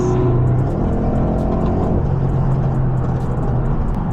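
A loud car engine rumbles steadily throughout, with a low droning tone and a slight rise in pitch midway, as if revving or accelerating nearby, with no talking.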